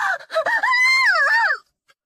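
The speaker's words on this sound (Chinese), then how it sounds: "旋即帐篷里充斥着惨烈的喊叫" A woman screams in pain inside a tent, a single loud, wavering, drawn-out cry that rises and falls for over a second before breaking off into silence.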